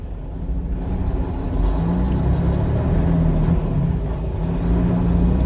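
A semi truck's engine pulls away to start a long haul. A steady low rumble builds slightly as it gets under way, close and continuous with no talk.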